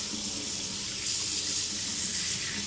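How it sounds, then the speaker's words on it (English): Hot water runs steadily from a kitchen faucet into the sink, a constant close hiss and splash that grows slightly stronger partway through, with no talk. "Verify that the hot water flows."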